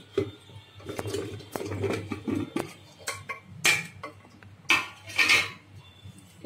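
Clattering clinks and knocks of jackfruit pieces landing in a metal pressure cooker, several irregular hits, close by with no talking.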